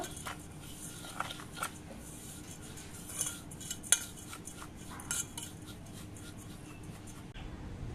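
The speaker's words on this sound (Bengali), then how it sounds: "শুকনো উপকরণকে ভালো করে মিশিয়ে নেব" Dry ingredients, including powdered milk and sugar, being mixed in a bowl for a palm-fruit recipe, giving soft scraping and clinking of a spoon against the bowl with a few sharper taps, steady and close, with no talking.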